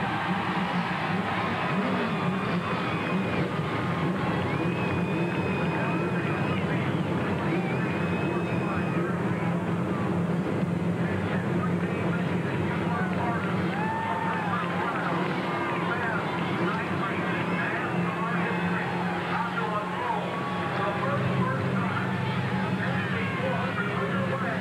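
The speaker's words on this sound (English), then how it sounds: "Gentlemen, start your engines." NASCAR stock car engines start up at the 41st Pepsi 400 in 1999, a continuous loud roar from the field of cars blending with crowd babble and announcer talk.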